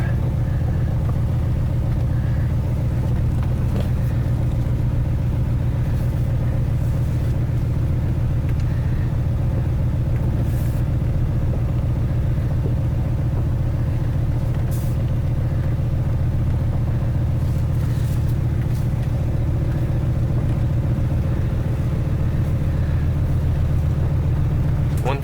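A 1972 Corvette engine running steadily on a cold day, with a low continuous rumble at idle pace as it rolls into a shop, moderately loud, steady throughout, with no talk.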